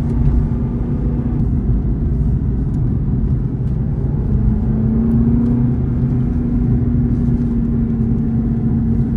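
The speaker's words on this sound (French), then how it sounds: "je suis au volant de la V8 Vantage AMR en boîte mécanique donc là je vais rester en deuxième, on va rouler tranquillement" An Aston Martin V8 Vantage AMR with a 4.7-litre V8 and manual gearbox cruises gently in second gear, its deep, loud engine rumble droning steadily with a slight rise in pitch partway through, no voices over it.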